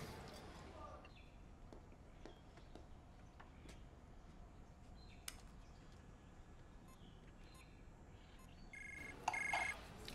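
A telephone rings briefly and loudly near the end of a quiet indoor scene in a Chinese TV drama, cutting in after several seconds of hushed room tone.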